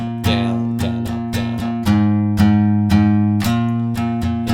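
Acoustic guitar strums a bridge in a bright down-and-up pattern, close and steady, with the chords ringing between sharp strokes.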